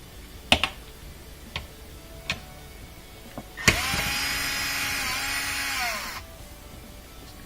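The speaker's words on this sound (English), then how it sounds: "Get a little bolt off. 5/16 little bolt." A few sharp metallic clicks and taps, then a power tool whirs steadily for a couple of seconds, spinning out a small 5/16 bolt from a Miele dishwasher, before stopping into quiet.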